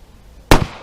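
A single sharp gunshot fired through soda jugs into a layer of fleece blankets, one loud close crack with a brief echoing tail after near silence.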